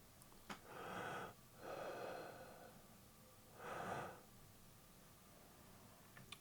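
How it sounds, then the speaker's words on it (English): Deliberate breaths performed close to a laptop's built-in microphone: two long airy exhales in quick succession, a pause, then a third breath, with faint clicks at the start and end. "I'll just perform the type of breath that I want it to look for."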